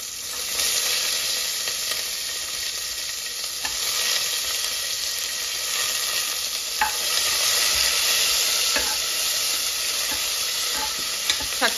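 Onions for paaya soup sizzle and fry steadily in a pan for the whole stretch, with a spoon stirring and scraping through them now and then, close and fairly loud.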